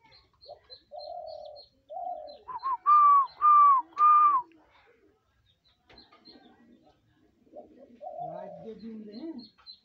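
A caged dove offered for sale gives a series of soft, low coos, then several louder whistle-like notes in short bursts, with a few faint chirps and pauses between phrases.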